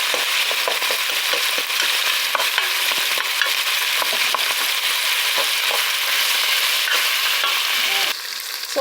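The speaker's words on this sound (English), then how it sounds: "we're adding the onion and garlic" Onion and garlic fry in a home pan with a steady, close broadband sizzle and crackle, stirred now and then with small scraping knocks, continuous throughout with a slight drop near the end.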